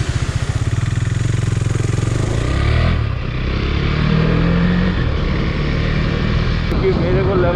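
Motorcycle engine running steadily up close on a long ride along a rain-flooded road, a loud continuous drone with a brief dip around the middle, and faint voices mixed beneath the engine.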